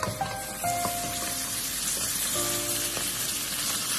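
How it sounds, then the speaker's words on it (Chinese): Fish pieces pan-frying in hot oil give a constant crackling sizzle, close and steady throughout, with faint faint clinks of a pan in the background. "将鱼块煎至两面金黄之后，再推至一边"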